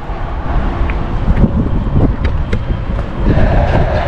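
Strong wind buffets the microphone in a loud, constant roar with irregular gusts and thumps, close and continuous.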